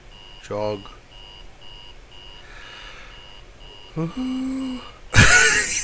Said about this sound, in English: This alarm is horrible.